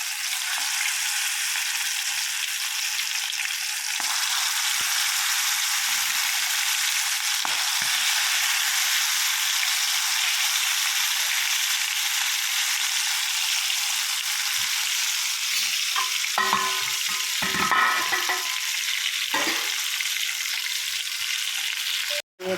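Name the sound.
frying and stirring ivy gourd with masala in a pan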